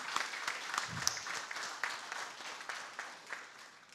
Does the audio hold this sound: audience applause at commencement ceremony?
yes